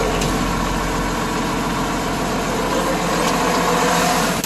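A tractor engine runs steadily while a brush hog mows the last cornstalks, a loud continuous low drone close by with a constant mechanical churn.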